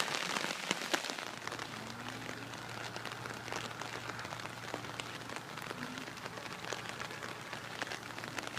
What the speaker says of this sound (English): because it's raining, it's very difficult to film